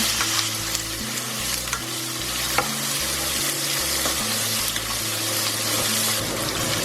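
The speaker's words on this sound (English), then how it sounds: "The beans are now ready to go in and give that a good stir." Beans sizzle steadily in a hot pan for an Indian bean and potato curry, with asafoetida already added, while a spoon stirs them in a repeated scraping rhythm; the sizzle is close and constant, with no talking.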